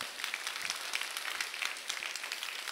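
A church congregation gathered for early-morning prayer claps to welcome a special guest speaker, producing moderate, fairly distant, even applause that lasts the full short stretch.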